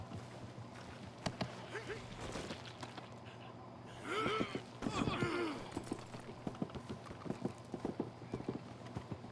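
Steady clip-clop of a speckled horse's hooves in Red Dead Redemption 2, with a horse whinnying partway through and voices speaking over the trotting.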